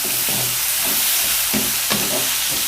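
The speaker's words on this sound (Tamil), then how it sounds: "வெங்காயத்தையும் போட்டுக்கலாம். போட்டு நல்லா வதக்கிக்கலாம்." Chopped onions sautéing in an oil-filled pan for Andhra-style Guntur chicken, a steady broadband sizzle with a few scraping stirs of the spatula, close and alone with no talking.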